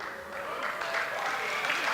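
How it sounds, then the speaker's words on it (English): An audience at a Fort Walton Beach Chamber of Commerce coffee gathering applauds during a prize draw, a dense patter of clapping that runs steadily and grows slightly louder. "Ernie politely applauding"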